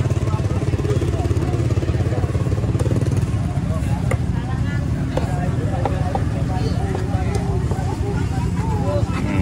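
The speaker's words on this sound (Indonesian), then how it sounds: "Hiruk pikuk seru." Busy traditional market hubbub with a steady motorcycle engine putting close by in narrow alleys, overlapping chatter and occasional clatter throughout, with people talking.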